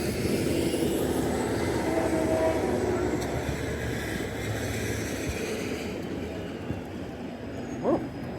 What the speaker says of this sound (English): You can already hear the train running too.